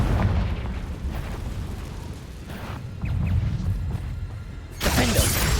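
A Confringo blasting spell erupts in Hogwarts Legacy amid combat, a dense, loud rumbling roar of booms and bursts that builds, then slams into a brighter, crashing blast at the end.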